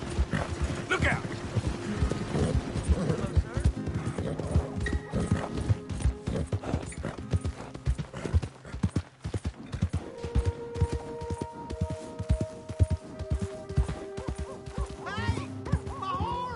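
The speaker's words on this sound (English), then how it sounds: "Hey, my horse!" Hooves of a galloping horse clip-clop in a steady rhythm in a video game, close by, with a horse whinnying and voices speaking over the clatter.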